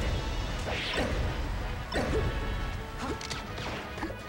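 A down smash in a Super Smash Bros. Melee match between Falco and Fox lands as a series of sharp, punchy hit impacts with whooshing swipes, recurring about once a second at moderate loudness.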